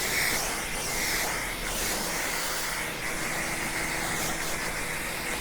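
A pressure washer hisses steadily as it rinses soap off a car, a continuous close spray with an engine humming underneath and small shifts in tone.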